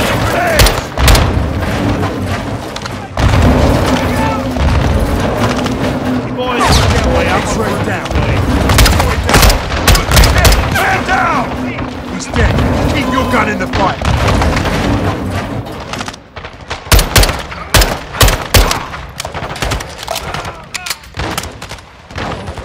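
Call of Duty Modern Warfare 2 battle with rapid gunfire, automatic bursts and heavy explosion booms rolling one after another, loud and dense, while soldiers shout orders over the combat.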